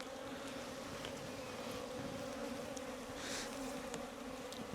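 Korean native honeybees buzzing steadily around a hive in early spring, a dense continuous drone of many wings close by with no one speaking.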